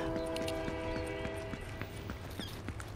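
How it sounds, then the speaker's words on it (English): A train in the Fortnite video game rolls in along the track, a steady rumble with rhythmic clacking beats that stays moderately loud throughout, with no talk over it. "The train is coming right up towards us."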